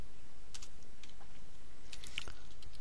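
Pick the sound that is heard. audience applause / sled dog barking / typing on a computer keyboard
typing on a computer keyboard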